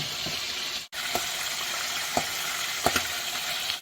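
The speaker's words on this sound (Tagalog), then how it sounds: "Piprituhin ko kasi gusto ko sa sinigang na bangus." Salted milkfish (bangus) fries in a pan with a steady, close hissing sizzle, broken by a brief pause and several sharp pops and crackles of spattering oil.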